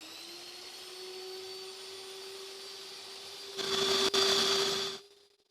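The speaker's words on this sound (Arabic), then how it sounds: "غادي نبدا نطرب في الكريمه ديالي" An electric mixer whips cream with milk powder and icing sugar for a cheese cream cake, first as a steady mid-level whine that then jumps louder for about a second and a half before cutting off.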